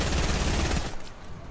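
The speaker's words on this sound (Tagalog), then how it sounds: "Ang kalat ng baril na yun" A fast burst of automatic gunfire in Fortnite, loud and close, rattling for under a second before cutting off into a fading echo.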